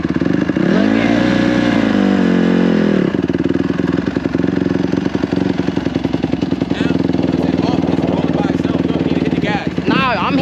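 Dirt bike engine running loud and close, revving up and down in a rising and falling drone, then settling into a rough, chattering idle, with people talking over it.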